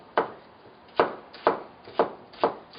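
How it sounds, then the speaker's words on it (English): A knife chops avocado on a cutting board for guacamole, five crisp, close knocks at an uneven pace of roughly two per second, alone without talking. "chop it up pretty fine"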